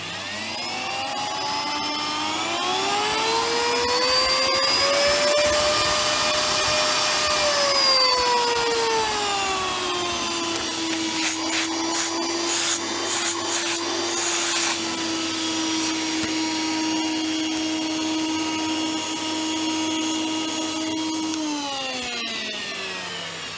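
A Miele S7260 vacuum cleaner motor fitted with new bearings runs up to speed with a rising whine, holds a loud, rough, droning pitch with rattling scrapes, then winds down.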